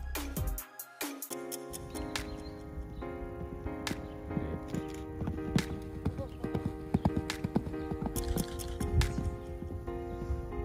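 Horse hooves clip-clop steadily and close up at a brisk pace while a mare is hurried over an obstacle, with faint human voices and stable noise in the background.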